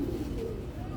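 A pigeon coos softly and steadily, close by, with a low murmuring hum and no talking.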